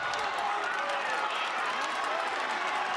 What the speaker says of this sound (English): Nebraska crowd making some noise for Brock Hardy.